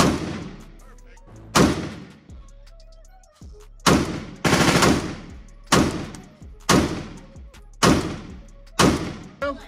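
4A1 rifle in 5.56 fired on full auto outdoors, several loud short bursts of rapid shots separated by pauses, each burst sharp and booming with ringing decay.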